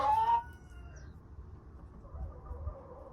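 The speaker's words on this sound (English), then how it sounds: "I find the little cute noises that they make really, really therapeutic and relaxing" A Brahma chicken lets out a short high call at the start, then soft low clucking and rustling continue quietly close by.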